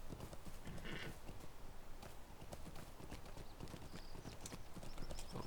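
A horse's hooves clip-clop in a steady rhythmic trot in a video game, with a brief neigh. The sound is moderately close and continuous, with no talking.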